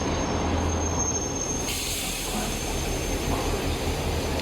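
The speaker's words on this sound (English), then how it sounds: "Вот на таком старом поезде я сейчас буду кататься." An old railway train on the line to Kuranda village through the mountains rolls along with a dense, continuous rumble and clatter, a steady close-up roar with a faint high whine running through it.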